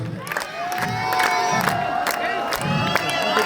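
A live crowd at the close of a show cheers, whoops and shouts with loud sustained applause, creating a dense, continuous roar of many voices with rhythmic clapping surges throughout.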